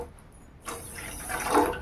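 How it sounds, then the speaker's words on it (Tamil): Water poured from a cup into a cooking pot with sugar while making a gram-flour sweet, a short pouring splash that starts after a quiet moment and swells louder near the end. "அதே கப்பில் 2 கப் அளவுக்கு தண்ணி சேர்த்துக்கலாம்."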